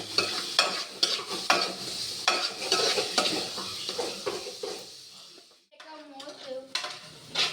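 Semiya vermicelli roasting in a pan, with repeated scraping stirs and faint sizzling close by, then a brief pause followed by a few lighter clinks and scrapes at the end.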